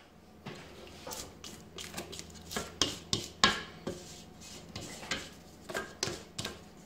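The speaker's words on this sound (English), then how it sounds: "so scrape the bottom again" A spatula or spoon scrapes the bottom of a mixing bowl of creamed butter and liquid for a drumstick dessert, giving close, repeated scrapes and clinks in an uneven rhythm.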